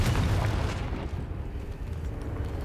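A Confringo spell blast in Hogwarts Legacy booms loudly, with a heavy low rumble that fades over a couple of seconds.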